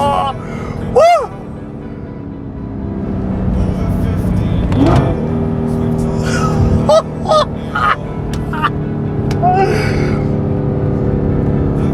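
Straight-piped Audi R8 V8 engine droning loudly up close, with rising and falling rev sweeps and a few sharp swells, while voices exclaim over it.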